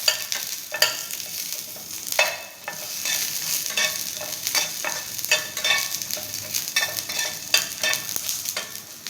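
Green chilies and chopped onion sauté in hot oil for a Maharashtrian chutney, a continuous close sizzle broken by irregular scraping stirs of a spoon against the pan, with no talking.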